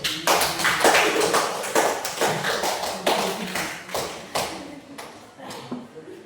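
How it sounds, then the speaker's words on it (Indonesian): An audience applauds a discussion group at a classroom-style session, a burst of close clapping that thins out toward the end, with talk mixed in. "Tepuk tangan untuk kelompok 1."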